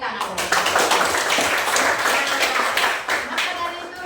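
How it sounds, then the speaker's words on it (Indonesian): Students in a classroom burst into dense, steady clapping that fills about four seconds at close range, with voices mixed in underneath. "Tolong tepuk tangan."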